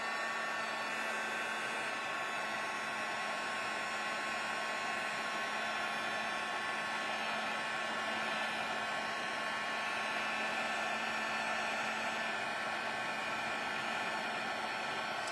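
Heat tool blowing hot air over a craft hostess gift, a steady, even whooshing roar with a faint motor whine that runs unbroken and unchanging from start to finish, with no voices.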